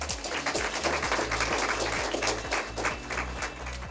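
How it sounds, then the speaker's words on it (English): Audience applause for an honorable minister at a stock exchange opening bell ceremony, steady dense clapping throughout, with a low rhythmic tonal pattern underneath, likely music. "Will you please give him another round of applause?"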